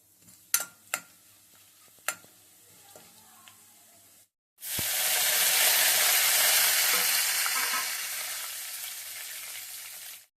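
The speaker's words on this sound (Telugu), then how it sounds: "ఆయిల్ వేడెక్కిన తర్వాత పోపు దినుసులు వేస్తున్నాను. మిరపకాయలు, పోపు దినుసులు" Dried red chillies and tempering spices hit hot oil in a pan, preceded by a few sharp clicks and taps, then a loud, sustained sizzle that crackles evenly and tapers slightly toward the end.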